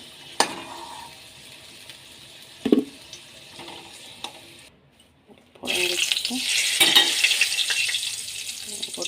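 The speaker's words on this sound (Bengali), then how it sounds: "এই যে আলুটা ভাজতে দিয়েছি" Potatoes frying in a pan: sizzle starts partway through and holds steady and fairly loud, after a stretch of quieter kitchen clatter with a few sharp knocks.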